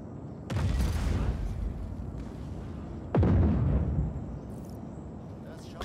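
Two heavy video game explosion booms in Just Cause 4, a few seconds apart, each a sharp blast trailing into a rumbling roar over a steady noisy background.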